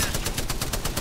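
Rapid automatic gunfire in the Apex Legends video game, an even burst of about ten shots in one second, loud and close.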